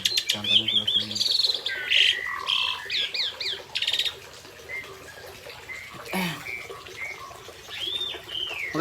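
A tame captive pair of Asian pied starlings, jalak suren, calling at home, with rapid repeated chirps, whistles and squawking phrases, loud and close, male and female alternating in lively bursts with short pauses.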